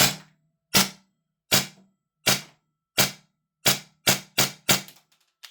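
Vorsk VMP-2 gas blowback airsoft rifle firing on semi-auto from a long magazine: nine sharp, close cracks, evenly spaced at first and then coming faster, each snapping off in silence.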